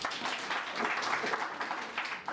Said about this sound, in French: Ça s'applaudit là.